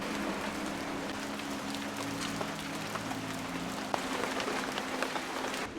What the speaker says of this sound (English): The rain has not stopped.